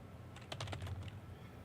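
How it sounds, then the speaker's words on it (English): A short burst of typing on a computer keyboard: a quick cluster of soft keystroke clicks, fairly quiet, with no voices. "I'm typing up storm here."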